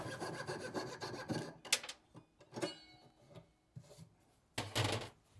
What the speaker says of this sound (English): Now I'm sawing out the section I use for holding ring clamps in place.